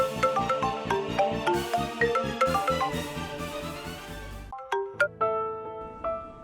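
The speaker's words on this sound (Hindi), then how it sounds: "मैंने 1 मिनट उस विवान को फोन ही लगाता हूं मैं।" A melodic electronic ringtone plays a repeating tune of bright tones, briefly pauses, then resumes with a few sharper chimes.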